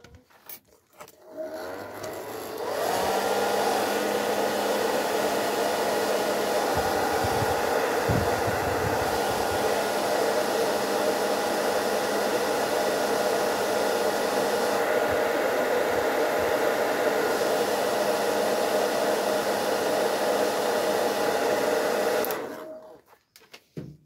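A hair dryer or heat gun warms a PVC patch being stuck onto fabric, starting with a click and then blowing in a loud, steady, close whoosh for about twenty seconds before shutting off.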